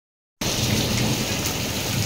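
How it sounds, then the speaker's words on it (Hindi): Steady rain pours down during a heavy downpour that floods water into a house. A dense, even hiss starts abruptly and continues without a break, close and fairly loud, with no voices. "बारिश की आवाज़ को इंजॉय करें।"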